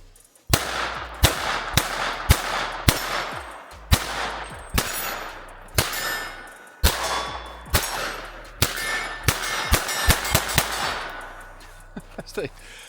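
A .22LR pistol fired in a string of sharp, ringing shots at an uneven pace, roughly a dozen or more loud cracks, each trailing off briefly, with short pauses between groups.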